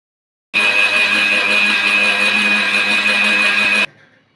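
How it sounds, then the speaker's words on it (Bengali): An electric kitchen blender grinds water-soaked ingredients into a batter for patisapta pitha, a steady, loud whirring drone that runs for about three seconds alone before cutting off abruptly. "এগুলো এখন আমি ব্লেন্ডার করে নেব।"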